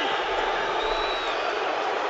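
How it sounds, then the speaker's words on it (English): A large arena crowd at a big fight boos a fighter, a dense, loud, sustained roar of voices that holds steady throughout with no clear breaks. "Look at them booing him."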